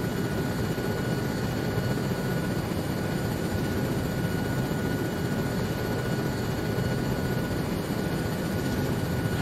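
Helicopter rotor and engine noise in a Vietnam War military simulation video game, a loud, constant whirring drone filling the whole stretch with no other sound.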